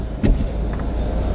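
Electric windows of a convertible car whirring up after the roof closes, a brief motor hum with a soft click near the start, steady and close over a low background rumble.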